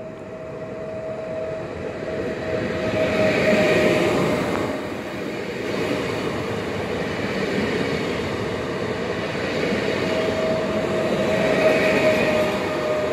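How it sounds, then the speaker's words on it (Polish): Koleje Mazowieckie passenger train at a station on the Poznań to Kutno line, a steady rumbling roar of rolling stock with a faint tonal whine running throughout, loud and continuous with no voices. "Uwaga, pociąg osobowy kolei mazowieckich do stacji Sierpów."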